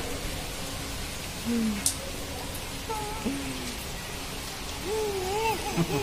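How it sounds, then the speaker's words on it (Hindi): Steady rainfall on a rooftop in a village setting, a soft even hiss throughout, with a voice and brief vocal sounds rising over it. "अरे हमारी वंशु लाडो एंजॉय कर रही है बारिश से।"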